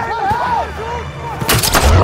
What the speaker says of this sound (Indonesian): Quinn menembakkan grenade launcher ke dalam mulut salah satu anjing itu dan meledakkan perutnya.